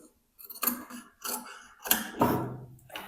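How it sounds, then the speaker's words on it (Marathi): Scissors cut away excess fabric from a maxi dress being stitched, with several quiet, separate snipping strokes spaced about half a second apart, close up and alone. "आता एक्स्ट्राचं कापड आपण इथे कट करायचं आहे."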